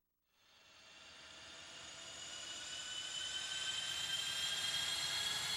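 Jet airplane engines spool up from silence into a rising, high-pitched whine that grows steadily louder and brighter, alone without any voices, as an advertisement sound effect.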